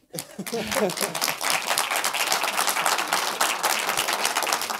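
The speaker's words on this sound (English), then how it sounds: "I will send applause to her." At a film talk during a documentary festival, an audience bursts into dense, sustained clapping that rises quickly after a brief voice at the start and stays full and even throughout.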